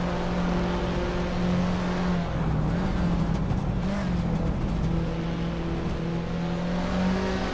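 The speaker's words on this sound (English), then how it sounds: "Boy Afro is driving a 1990 Mercedes-Benz 190e Evo 2." A 1990 Mercedes-Benz 190E Evo 2 race car engine in a racing video game, a steady droning hum with a pitch dip and recovery midway, sustained and fairly loud throughout, no voices.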